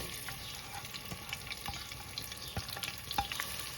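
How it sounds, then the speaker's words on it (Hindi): Two medium onions frying in hot oil in a pan for a chicken qorma, a faint continuous sizzle broken by soft scattered crackles and spatters. "प्याज हमारे फ्राई हो रहे हैं, अभी और फ्राई करना है इसको।"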